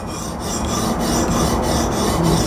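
A knife blade rasps against a Hapstone RS Premium CBN sharpening stone in steady back-and-forth strokes, a close, even gritty scraping with no speech.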